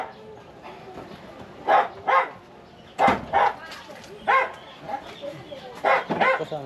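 A dog barks repeatedly in short sharp bursts, fairly close, with irregular gaps, while a person talks in the background.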